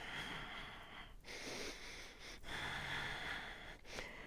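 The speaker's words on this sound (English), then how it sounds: "Last 2 cycles of breathing." Breathing during a Pilates session on a Wunda Chair, faint airy inhales and exhales in slow cycles with brief pauses between them and no talking.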